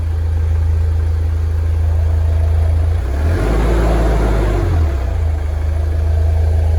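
A cold MN Mitsubishi Triton engine idles close by, a loud steady low rumble with a brief dip and rise in pitch midway, then settling back to an even idle.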